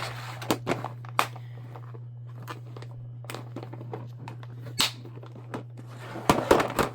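Plastic washi tape storage boxes snapped shut one after another, giving sharp, close clicks and snaps with light rustling and handling noise in between, over a steady low hum.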